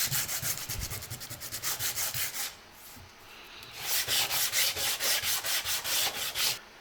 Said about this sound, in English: then hit it with a little bit of sandpaper around a dowel afterwards.